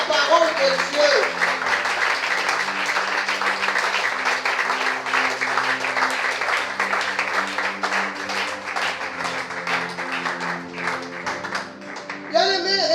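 A church congregation applauding continuously, a dense, loud wash of clapping that runs the whole time with a voice heard at the start and end.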